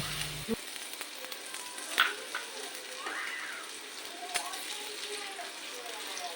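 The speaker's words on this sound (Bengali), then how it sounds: "এবার আলুগুলোকে আমি ভেজে নেব" Small chopped potato pieces frying in mustard oil give off a steady, moderate sizzle throughout, with a few faint clicks and light stirring sounds, a brief thud near the start and a quieter background hiss.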